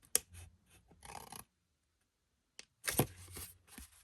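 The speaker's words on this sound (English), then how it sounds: "I'm just going to freehand my scissors, and I'm going to just cut up from the corner" Scissors cutting freehand up from the corner of a craft banner, most likely paper. Two close bursts of snipping and rasping, one short and one longer, with a quiet pause between them.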